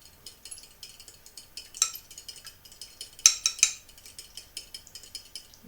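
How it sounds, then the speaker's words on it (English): A fork whisks three eggs in a bowl, giving quick light metallic clinks and scrapes in uneven bursts, close and fairly quiet, with no talking. "I'm just going to use a fork and whisk it up"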